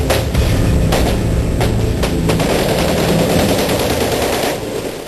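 Dense automatic gunfire and bursts of shots crackle nonstop during a police operation against gangsters in the narrow lanes of Lyari, loud and close, with no pauses for about five seconds before easing slightly at the end.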